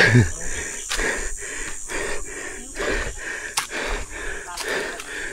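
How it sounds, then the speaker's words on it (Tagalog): Heavy, ragged panting after a climb through an abandoned resort: repeated gasping breaths in a steady rhythm, close to the microphone and moderately loud, with a wheezy edge to some inhales. "Yung hingal ko. Parang may hika."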